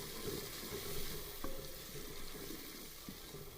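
Chopped tomato is stirred into frying potato and egg curry with garlic and green chili, a soft continuous sizzle with faint scraping stirs, quiet and close.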